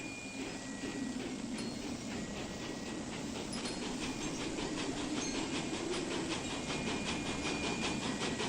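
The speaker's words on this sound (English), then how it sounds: "a train is coming" A train approaches with a steady rumbling roar and rhythmic clickety-clack of wheels on rails, loud and continuous throughout with a faint hiss on top.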